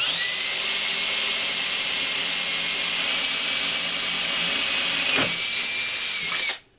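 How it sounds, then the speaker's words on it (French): An electric drill fitted with a small bit pre-drills at a pencil mark, giving a steady, loud, high-pitched whine that runs almost without a break for about six seconds before cutting off abruptly. "Ensuite on se positionne là où on a fait la marque avec le crayon indélébile et on perce."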